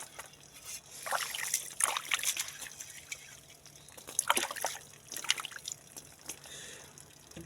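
Water splashes and trickles in short bursts as a clay water pot is rinsed and scrubbed, with clattering and sloshing close by.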